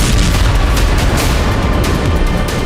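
War footage of a blast on a Ukrainian railway track used for weapons supply: a heavy, dense rumbling boom that stays loud and continuous, with a broad roar of smaller bursts blending through it.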